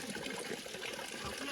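Water runs steadily from a spring at the Sirumalai Siddhar temple in Dindigul district, a continuous close splashing and trickling that fills the whole short stretch without pause.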